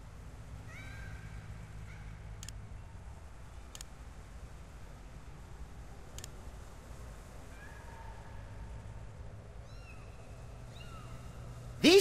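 Cartoon cats meow repeatedly in the Sam & Max Save the World video game, several short mewing calls scattered over a steady low background hum, with a sudden louder burst at the very end.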